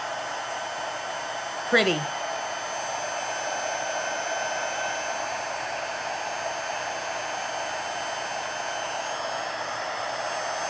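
A heat embossing tool blows hot air onto embossing powder on a card, a steady, even whoosh of air throughout, with one brief spoken word near the start.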